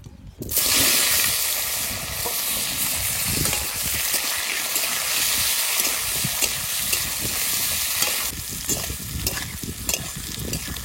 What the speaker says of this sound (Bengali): এবার এঁচোড় ভেজে নেবো